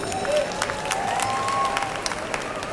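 An audience applauds at a movie audio and teaser launch event with crowd noise and scattered claps. Brief tonal whistles or squeals rise above the clapping, and murmured voices are mixed in.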